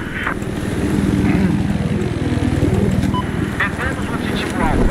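Enemy helicopter in the Battlefield video game, a steady low rotor and engine drone that holds at constant loudness throughout, with game effects and voices layered on top.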